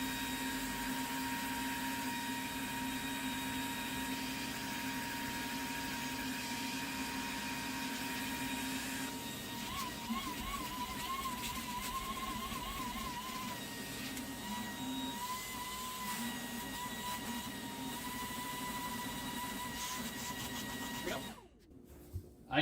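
Ryobi 18V ONE+ cordless spot cleaner fitted with a crevice tool, running steadily with a loud motor whine and suction hum that holds for about twenty seconds, shifts slightly partway through, then shuts off near the end.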